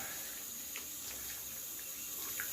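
Water runs steadily into a tub being filled for a pig's soak, a continuous hissing stream with faint splashes and no speech.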